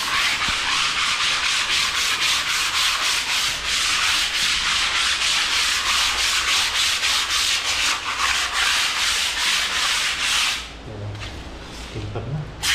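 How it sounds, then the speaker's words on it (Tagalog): Sandpaper scrapes across a skim-coated wall at home in steady back-and-forth rasping strokes, loud and close, continuing without pause until it stops abruptly near the end. "Pag nadaanan ng liha."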